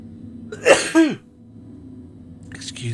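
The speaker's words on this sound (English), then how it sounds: "sneeze." A single close, loud sneeze, a sharp burst followed by a falling voiced tail, breaks over quiet background hum, with a faint rustle afterward.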